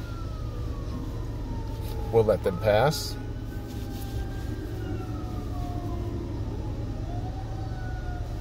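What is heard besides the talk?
fire truck siren passing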